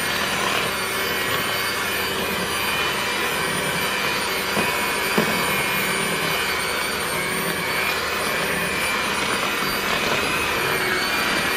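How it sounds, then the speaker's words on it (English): Electric hand mixer beating cake batter for a pound cake, a loud, steady motor whine with a broad whooshing hiss that continues unbroken throughout, close to the microphone, no talking. "I'm going to turn this beater on"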